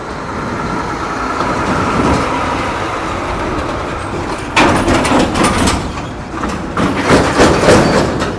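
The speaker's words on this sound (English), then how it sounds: "those trucks make a lot of noise because the road's bumpy" Heavy vehicles rumbling and rattling past nearby, a continuous loud clattering roar with surges of metallic banging.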